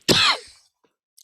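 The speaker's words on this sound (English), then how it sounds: "I'll have these occasional little coughs" A single sharp, close cough bursts out loudly and trails off, followed by silence and a faint brief sound.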